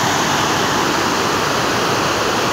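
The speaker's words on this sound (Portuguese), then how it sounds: "aqui vocês têm uma noção da força da água" A waterfall swollen after floods roars nearby, a loud, dense, unbroken rush of falling water filling the whole clip with no voices.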